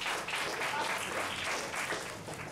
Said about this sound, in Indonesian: tepuk tangan dulu dong buat Kang MT